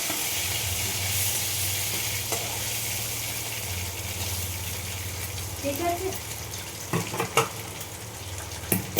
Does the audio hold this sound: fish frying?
yes